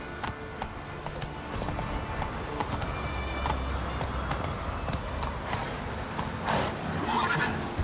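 Roach, the horse in the video game Witcher 3, gallops with steady hoofbeats and lets out a neigh amid dense in-game ambience and background sounds, with no clear talking over it.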